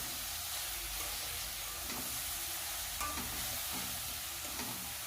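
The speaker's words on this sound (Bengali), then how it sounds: "এই লবণ হলুদটাকে কুলের সাথে ভালো করে মিশিয়ে" Jujube pickle (kul achar) stirred in a pan with salt and turmeric gives a steady, close hissing, sizzling texture, with soft scraping strokes from the spoon running through it and no voices.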